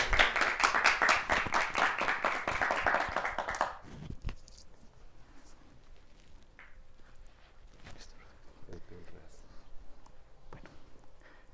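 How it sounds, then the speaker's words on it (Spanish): Audience at a university thesis presentation applauds a student, brisk close rhythmic clapping for about four seconds that stops abruptly, followed by quiet room noise with faint shuffling. "un aplauso para, Carlos"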